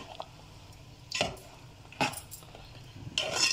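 Faint stirring of boiled raw mangoes into sugar syrup for mango murabba, with a few soft spoon clinks against a pot over quiet background hiss.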